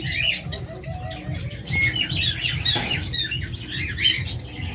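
Hybrid pet lovebirds or budgerigars kept in pairs for sale squawk and chirp in a busy, overlapping chorus of short shrill calls close by, with a low background hum.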